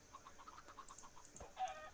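A hen in a farming video game gives a run of soft, rhythmic clucks, about a dozen short notes at a steady pace, fairly quiet, ending in a slightly louder squawk with no talk.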